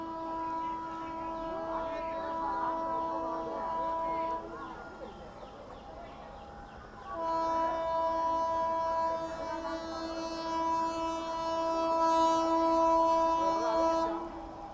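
The IRCTC Tejas Express, running between Lucknow and New Delhi at about 130 km/h, overtakes with its horn sounding in two long, loud, steady blasts separated by a brief break, over the rumble of the passing train.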